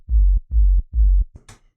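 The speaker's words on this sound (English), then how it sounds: "tail, this bassy tail of the kick that sounds like this." Only the bassy tail of a techno kick drum remains, three deep, rounded low thumps in quick even succession, followed by a couple of softer, brighter ticks as it trails off.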